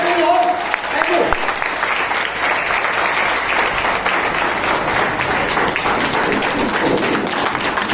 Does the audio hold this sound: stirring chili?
no